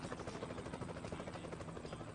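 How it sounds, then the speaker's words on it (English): A helicopter in Euro Truck Simulator 2 drones steadily with a fast, thumping rotor pulse, loud and close, with no one talking. "I hear a helicopter."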